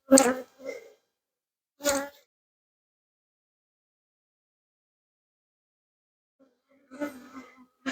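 Short, close bursts of honeybees buzzing in a horizontal hive, three brief flurries separated by long stretches of silence.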